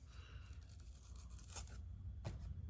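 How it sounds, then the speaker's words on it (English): Tape being peeled off a junk-pile piece during a primitive farmhouse makeover, with quiet ripping bursts over a low background rumble and one sharper tear near the end. "Will the tape come off?"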